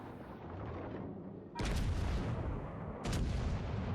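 Warship main guns fire in World of Warships: Legends, two heavy booming salvos about a second and a half apart, each leaving a rolling rumble that fades, with a low background drone between them.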